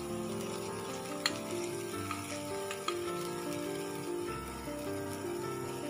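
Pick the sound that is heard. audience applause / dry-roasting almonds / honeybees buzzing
dry-roasting almonds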